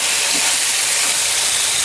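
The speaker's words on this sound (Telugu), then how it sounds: "ఆయిల్లో నెత్తళ్ళు వేయించుకోవాలి" Dried fish frying in oil, cooked in a clay pot: a loud, dense, steady hiss of hot oil that stays even from start to finish without a pause.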